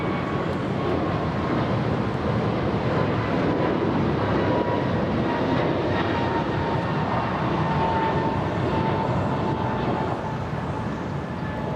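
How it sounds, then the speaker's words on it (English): American Airlines airliner taking off at LAX, a loud, sustained jet engine roar with steady broadband rumble and faint whining tones, continuous throughout and heard at a distance, with no talking. "Lifting off as we speak. That's American Flight 591 en route to Washington Dulles."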